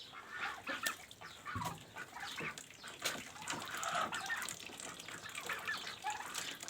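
Domestic ducks on a farm drink and bathe in a bucket of water in hot weather, splashing and dabbling close by with scattered quacks and fowl calls over a continuous wet, busy background.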